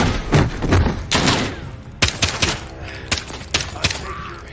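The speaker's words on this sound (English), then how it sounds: "The gunshots, of course." Gunfire in the video game Call of Duty Modern Warfare, with loud, sharp bursts and single shots cracking irregularly over a low, busy battle backdrop.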